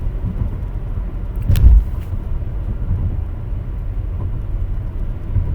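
A car drives along the road with a steady low engine and tyre rumble throughout, and a brief louder swell around the middle as something passes close by.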